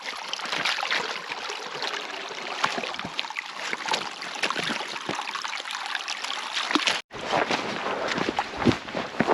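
Stream water flows and trickles steadily near a walker on a trail toward an abandoned prison farm, with scattered footstep-like crunches and a brief dropout near the end.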